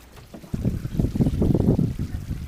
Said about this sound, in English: Cockpit shower.